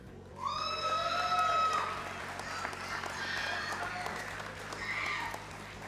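Applause at a graduation ceremony for Game Art graduates, a steady crowd clapping for about five seconds with scattered cheers and whistles.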